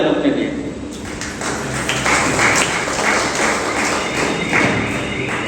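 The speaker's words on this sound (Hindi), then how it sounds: "अब आप ताली बजा लो अपने लिए।" An audience in a Rajyoga spiritual class claps along for roughly five and a half seconds, dense and steady, with thuds and a speaking voice blended in.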